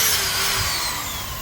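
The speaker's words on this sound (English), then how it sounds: "I need to drill a little hole." A power drill runs loud and close, its high motor whine drifting slightly in pitch as it bores through material.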